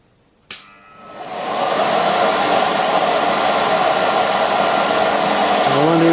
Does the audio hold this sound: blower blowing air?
yes